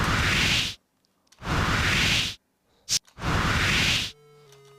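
Synthesized wind whooshes, three long broadband swells each rising and falling over about a second, separated by silence and a short sharp burst, ending on a faint steady tone.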